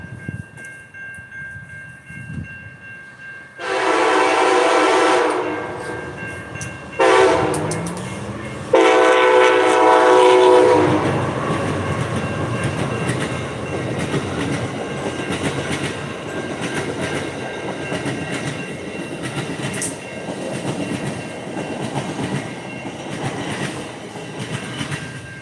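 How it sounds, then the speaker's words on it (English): Amtrak passenger train passing close by, horn blasts in several long tones over the rising roar and clatter of wheels on rails, continuing loud throughout. "Train coming."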